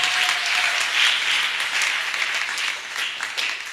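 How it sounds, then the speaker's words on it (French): A church congregation bursts into steady, dense applause during a sermon, a sustained wash of many hands clapping in a large room, fairly loud and without pauses. "Acclamons pour le Seigneur"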